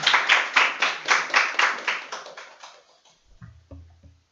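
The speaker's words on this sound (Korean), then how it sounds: "박수로 환영할까요?" A group clapping in a welcome for guests, starting as loud rhythmic pulses of claps that fade out over a few seconds, followed by a brief low thump and murmur.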